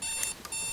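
A bedside alarm clock sounds close and loud, a steady electronic ringing that briefly dips and then resumes, with no voices.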